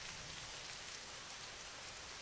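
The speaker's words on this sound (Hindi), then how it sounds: "नेहा बारिश में बच्चों को मंडी लेकर जाती है।" Rain falls at an outdoor vegetable market, a steady, even hiss of drops with no breaks, soft and fairly distant, with no voices.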